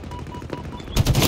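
Gunfire from the video game Overkill, a three-round burst: sharp cracks over busy game noise, followed by a louder, denser volley at the end of a brief span.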